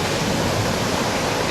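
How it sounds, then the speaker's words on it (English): Sea waves wash over a pebble beach on the East Sussex coast in a loud, continuous, roaring rush of water, with no voices. "as the waves go out, they are dragging the small pebbles with them"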